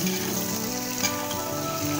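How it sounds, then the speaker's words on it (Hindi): Whole green chickpeas roasting with spices in a pan give off a steady, even sizzle with a faint crackle, continuous and close, with no voices. "थोड़ा सा इसे हम भूनते हैं ताकि जो साबुत चना है वो थोड़ा सा पक जाए"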